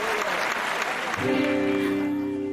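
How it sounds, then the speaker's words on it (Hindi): A game show studio audience claps in a dense burst for the first second, then a musical sting with sustained tones takes over as the clapping fades underneath. "तालियां"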